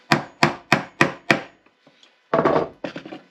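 Hammer blows driving a nail into wood outdoors in snow, five sharp evenly spaced strikes followed by a pause, then a few quicker, heavier knocks, close and loud.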